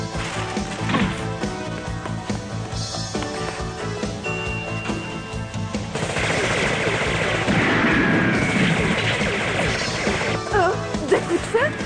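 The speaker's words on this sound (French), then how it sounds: "Des coups de feu?" Bursts of gunfire crack and rattle amid crashing impacts and a swelling dramatic score in an animated film, loud and chaotic throughout.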